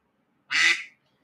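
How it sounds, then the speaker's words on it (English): Phone ringtone of a duck quacking: a single loud, nasal quack, close and alone, with the start of another cut off at the end. "That what you can hear is my phone. Duck quacking."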